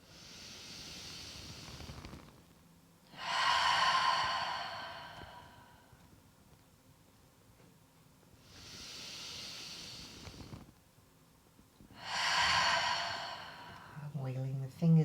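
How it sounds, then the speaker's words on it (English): Two slow cycles of deep breathing close a yoga practice. Each soft inhale is followed by a louder, airy, sighing exhale, close to the microphone with pauses between, and a brief sound at the very end. "So we take 2 deep inhales and exhales to close the practice."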